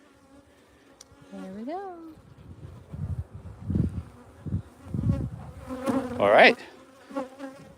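Honeybees buzz in a steady insect drone during a midwinter hive inspection, with a few louder swells as the hive is handled; someone speaks briefly.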